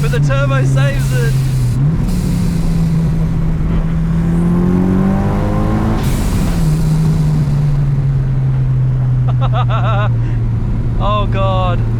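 A turbocharged Mitsubishi Evo 6 with a 260 kW 4G63 engine revs hard and loud, a steady engine drone rising and falling through the gears, with a whooshing turbo rise in the middle and brief voices over the top.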